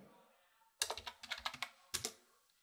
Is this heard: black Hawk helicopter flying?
no